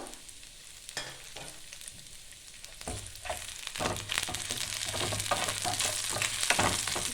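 Okra fries in a pan with green chillies, a soft sizzle that grows louder and denser partway through as stirring scrapes and crackles pick up, with no talking.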